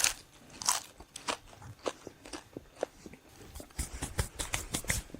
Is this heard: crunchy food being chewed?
yes